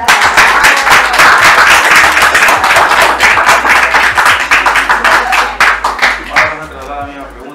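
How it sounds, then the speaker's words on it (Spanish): Loud, dense applause from wedding guests at a civil marriage ceremony, a steady crowd clapping for several seconds that thins and fades toward the end, with some murmured voices underneath. "Le damos un fuerte aplauso."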